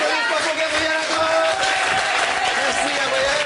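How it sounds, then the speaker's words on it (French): A French web show studio audience claps for Gabriel Adam, a dense, steady wash of applause filling the whole stretch at close range. "Allez, applaudissements pour Gabriel Adam."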